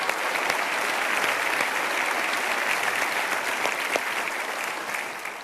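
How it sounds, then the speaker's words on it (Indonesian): An Indonesian studio audience at a televised talk show claps for an energetic dance troupe, dense sustained applause that holds at full strength and then starts to taper near the end. "Sekali lagi berikan aplaus untuk mereka."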